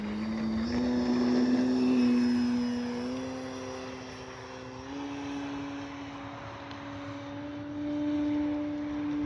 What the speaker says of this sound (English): Oh, that's a great flying plane right there.